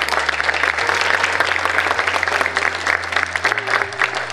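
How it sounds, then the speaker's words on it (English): A crowd applauds steadily, a dense wash of clapping from many hands that holds at an even, fairly loud level throughout. "Please have a round of applause."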